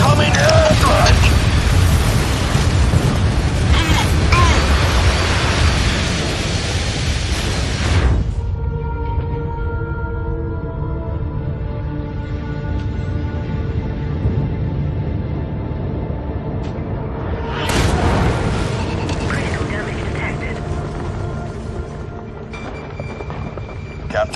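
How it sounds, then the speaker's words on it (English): Heavy rumbling blasts from an incoming airstrike in the MechWarrior 5: Mercenaries game, with a loud, dense roar for several seconds, then a lower drone, then another loud burst later on. Voices speak over the sound. "Incoming airstrike!"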